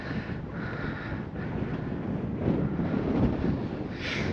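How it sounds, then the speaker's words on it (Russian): Strong wind in the mountains of Crimea buffets the microphone in a continuous roaring rush, gusting louder midway, with no voices. "сейчас видите, как ветер разбушевался"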